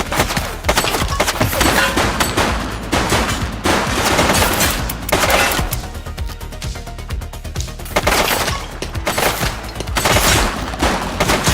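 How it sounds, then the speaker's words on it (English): Sustained, loud gunfire from a GTA police shootout, with dense overlapping shots and bursts rolling on continuously for the whole stretch. "He's shooting!"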